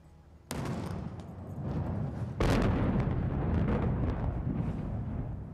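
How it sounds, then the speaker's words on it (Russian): The salute battery of the Peter and Paul Fortress fires a salvo for Russian Navy Day's main naval parade: two heavy booming blasts a couple of seconds apart, each followed by a long rolling rumble outdoors. "Залп салютной батареи Петропавловской крепости дает сигнал к началу празднования Дня военно-морского флота России."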